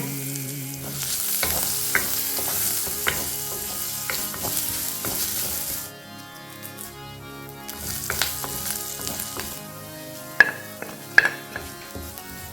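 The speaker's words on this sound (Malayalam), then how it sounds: "പപ്പടം പൊള്ളിച്ചെടുത്തേ ഈ എണ്ണക്കകത്ത് തന്നെ എടുത്തു വെച്ചിരിക്കുന്ന സാധനങ്ങൾ ഇടുകയാണേ" Ingredients drop into the oil left from frying papadam, for a curd-papadam dish, and fry loudly with a constant sizzle, broken by sharp clinks and scrapes of a spoon stirring the pan, close and without speech.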